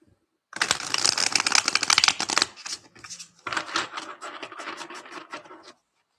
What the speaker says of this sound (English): let's throw some cards down for Flixlove